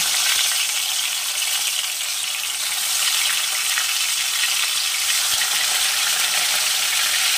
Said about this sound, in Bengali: তেল গরম হয়ে গেছে, আমি দিয়ে দেবো এবারে একে একে মাছগুলো দিয়ে